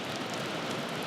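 Steady rain falling outdoors by a barrage on a wet day, a soft, even hiss of drops with no talk.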